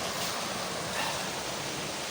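A forest stream flowing toward a village, giving a steady, dense rush of water that holds evenly throughout, fairly loud and close with no other sounds.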